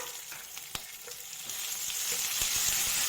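Tomato dropped into hot oil with whole spices like cinnamon, clove and cardamom, frying for a mushroom roast, a close, rising sizzle with a few light clicks of the spoon, no voices.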